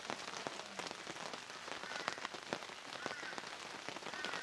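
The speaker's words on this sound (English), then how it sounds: "We've got rain, rain, rain, and it's cold." Steady cold morning rain drums on a gazebo canopy beside a river, a dense close patter of drops with occasional heavier splats, continuous and even throughout with no voices.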